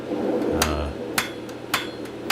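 A blacksmith's hammer strikes hot steel on an anvil while forging tongs, sharp metallic blows landing about every half second at moderate distance, with a low roar from the forge running underneath.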